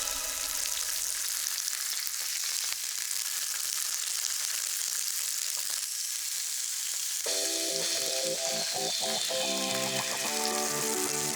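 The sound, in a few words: tofu frying in sage-infused oil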